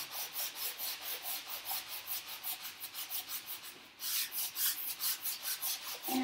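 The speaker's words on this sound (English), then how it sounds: "I lightly sand this right here" Rhythmic back-and-forth rasping of a 220-grit sanding block on a wooden kitchen cabinet, close and even, with a brief pause before the strokes resume slightly louder.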